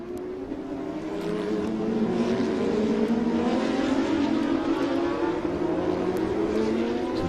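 Several race cars, including Stuttgart Cup Championship cars, roar past on an IGT race circuit, their engines droning steadily and rising in pitch with a rough, continuous buzz.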